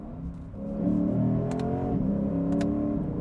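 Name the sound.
car 8-speed automatic gear shifts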